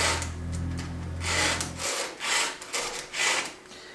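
A hand file rasps across the teeth of an old chainsaw's chain in steady, rhythmic back-and-forth strokes, loud and close, with a low hum underneath during the first half.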